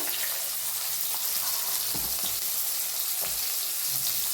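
Chopped onion and cumin seeds fry in a hot pan for a village-style cluster bean bhaji, giving a steady, close, loud sizzle with a few soft thuds and stirring knocks underneath.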